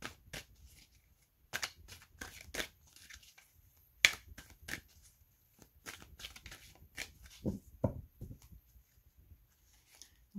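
Tarot cards are handled and shuffled up close in quiet surroundings, giving a series of crisp snaps, riffles and soft slides in irregular bursts, with no talking.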